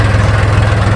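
A village tractor engine idles with a loud, steady low-pitched rumble and throb, heard up close and alone.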